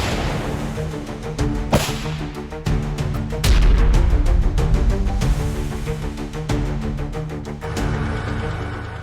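A 2S4 Tyulpan 240 mm self-propelled mortar fires in a sequence of sharp, heavy booming blasts at irregular intervals, each with a rolling tail, against a busy background.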